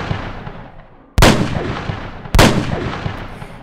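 Two loud, close gunshots from a .22 pistol ring out as sound effects about a second apart, each a sharp crack that trails off in a long echoing decay, over a dying reverberation from an earlier shot.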